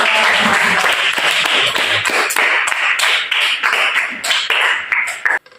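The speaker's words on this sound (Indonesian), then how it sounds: "Tepuk tangan." Dense, continuous applause from a group clapping hands at a classroom presentation, loud and steady throughout before cutting off abruptly at the very end.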